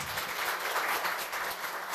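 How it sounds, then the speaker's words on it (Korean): An audience applauds at a university labor culture award ceremony, a fairly quiet but continuous wash of clapping from a crowd in a hall. "다시 한번 큰 감사의 박수 부탁드리겠습니다."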